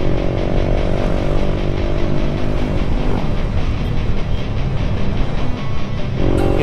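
Honda PCX 160 scooter, remapped and fitted with a VMAX power pipe exhaust, accelerating hard nearby; a loud, steady engine roar climbs in pitch with rising harmonics, then breaks into a rougher, noisier tone.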